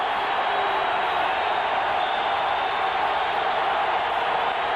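A large football stadium crowd roars steadily before a 49-yard field goal attempt in a 1994 Dolphins versus Steelers game, a dense unbroken wash of cheering and shouting at constant volume.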